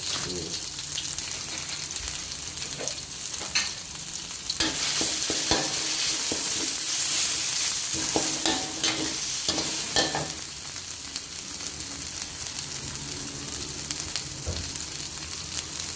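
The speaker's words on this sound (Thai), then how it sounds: "เราผัดให้เครื่องหอมนะครับ" Duck is stir-fried in a hot pan with southern Thai curry paste and a little shrimp paste, giving a loud, continuous sizzle close up. Scraping stir strokes come repeatedly throughout, and no one speaks.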